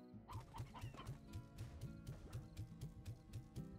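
Chickens clucking in a video game, a rhythmic series of repeated low clucks at a steady pace with some brighter squawks and flutters, clear and alone without talk.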